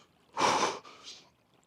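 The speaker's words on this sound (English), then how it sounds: "There's a gasp reflex. And I'm breathing really fast." A person in cold water lets out one sharp, breathy gasp, then a shorter, softer breath right after it, close and fairly loud with nothing else around.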